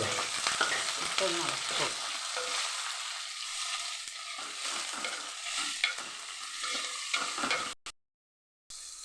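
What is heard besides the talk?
frying and stirring onions and green chillies in a pan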